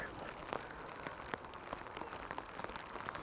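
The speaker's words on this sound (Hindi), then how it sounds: "बारिश जो है वो तेज़ होती जा रही है" Rain falls on a coastal town in Normandy with a soft, continuous patter and scattered sharper drops, fairly faint and without voices.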